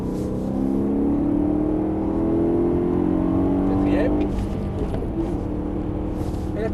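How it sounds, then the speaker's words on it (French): BMW M3 accelerating hard on a track, engine note climbing steadily toward about 6000 rpm before dropping, loud and close from inside the car, with a voice talking over it. "Et là, tu montes au moins jusqu'à 6000 tours."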